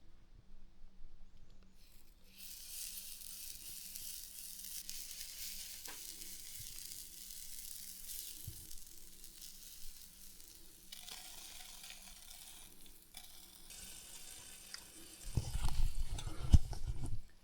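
Sourdough waffle batter sizzles steadily in a hot waffle pan, a continuous hiss throughout with a louder burst of sizzling and clatter near the end.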